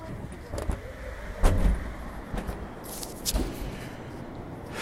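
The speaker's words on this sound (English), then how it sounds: "You can maybe hear some of the traffic." City traffic outside in cold, windy Chicago, heard as passing cars and a low background rumble with a few louder swells and clicks, moderately distant and fairly quiet.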